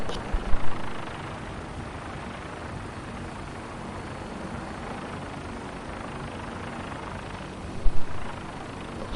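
A helicopter gunship in a video game hums as a steady, broad rotor-and-engine drone across the whole stretch, with two brief louder thumps near the start and end.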